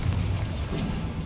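A Bombarda blasting spell explodes in Hogwarts Legacy combat, a short, dense, low rumbling boom that fills the brief moment with heavy thudding energy.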